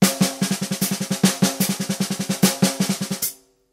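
Snare drum fill in which the non-accented notes are doubled as double stroke rolls, giving a rapid, evenly pulsing string of close, loud strokes that stops sharply, played alone.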